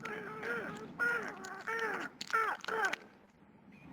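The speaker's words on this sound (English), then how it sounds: "The crows were squawking, munching his pies, leaping about, and eating his fries." Several crows caw repeatedly in harsh, overlapping bursts, loud and close, then fall quiet.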